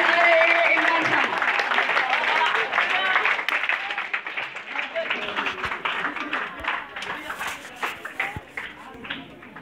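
A crowd at a Pakistani Defence Day speech event in 2018 applauds to welcome Imran Khan to the stage, sustained dense clapping that starts loud and gradually thins and fades over about ten seconds.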